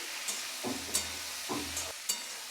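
Bottle gourd pieces sizzle in hot oil with bay leaf and black cumin, a soft, steady frying hiss broken by a few scraping stirs and light clinks of a spoon against the pan.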